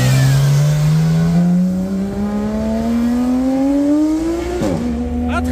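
A GT3 supercar revs loudly as it drives past on a street in Cannes, its engine note climbing steadily in pitch as it accelerates close by.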